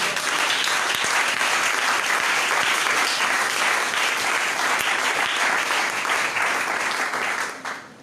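A church congregation at a divine healing seminar bursts into dense, sustained applause, loud and continuous, with faint cheering mixed in before it tapers off at the end.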